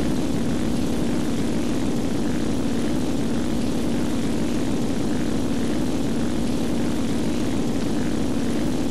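A propeller airplane engine drones loud and steady from start to finish, a constant buzzing hum with no breaks and no voices.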